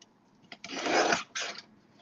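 Stacked quilt fabric being trimmed, heard as two close, brief rasping cuts, one longer swipe followed by a shorter one, in an otherwise quiet room.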